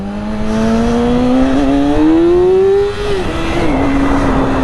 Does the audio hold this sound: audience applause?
no